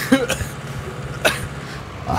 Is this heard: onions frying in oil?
no